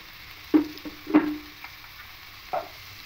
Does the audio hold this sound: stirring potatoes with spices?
yes